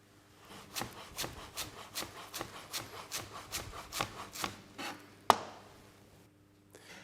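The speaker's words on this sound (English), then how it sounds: "Repeat the rolling action without lifting the knife from the board." A kitchen knife rocks through food on a cutting board in a steady run of about a dozen evenly spaced rhythmic chops, close and clear, ending with one sharper knock and quiet.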